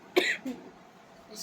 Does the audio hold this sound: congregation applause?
no